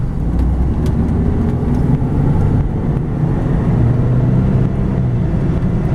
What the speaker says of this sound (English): make a right over here and accelerate up this hill and see how the vehicle performs